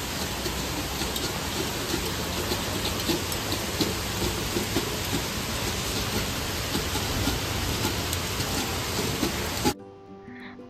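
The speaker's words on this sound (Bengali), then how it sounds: "দেখছেন কি পরিমাণ বৃষ্টি?" Heavy monsoon rain pours down in Mumbai, a dense, steady hiss with possible thunder rumbling beneath. It cuts off abruptly near the end, leaving only a faint tonal sound.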